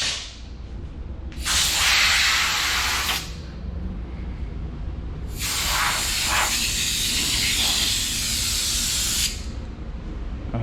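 Compressed air blasting from an air hose in a workshop, two loud sustained hissing bursts, a short one then a longer one of about four seconds, separated by a low background hum.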